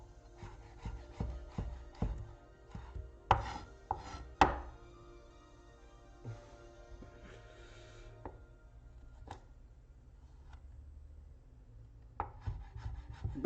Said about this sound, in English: We're just gonna mince some more garlic.